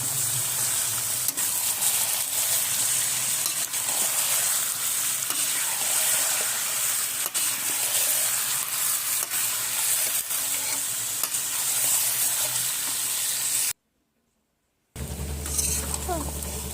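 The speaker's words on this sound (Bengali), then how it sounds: "মাংসগুলো দিয়ে এটিকে করে নিয়ে রেখে ভালো করে ফ্রাই করে নেব কষিয়ে নেব ভালো করে" Duck meat frying and being stirred in hot oil for a pulao and duck dish, a steady loud sizzle with frequent stirring scrapes throughout, then a brief silent gap and a short final burst of sizzling.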